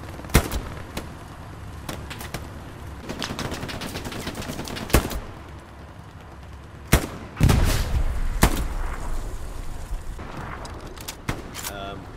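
Automatic machine-gun bursts and scattered rifle shots ring out in a Hell Let Loose battle, sharp repeated reports near and far with a heavy blast around the middle, while a voice talks intermittently over the fighting.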